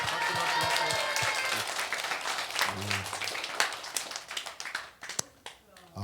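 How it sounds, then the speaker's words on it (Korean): A church group bursts into dense, close applause that thins and fades toward the end, with voices talking over the clapping. "박수 치시고 박수."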